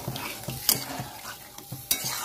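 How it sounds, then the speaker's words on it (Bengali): Sesame hog plum (amra) chutney with spices is stirred in a pan. A utensil scrapes in an even rhythm about twice a second over a soft, steady sizzle. "আর একটুখানি জল দিয়ে দেবো"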